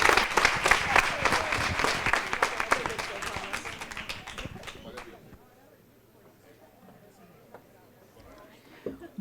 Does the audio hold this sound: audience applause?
yes